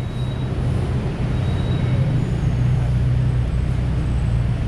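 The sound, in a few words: elevated sky train passing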